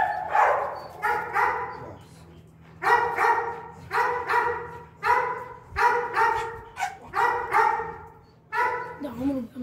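A Malinois barking on a farm, a long run of loud, close barks in short bursts of two or three, with brief pauses between them.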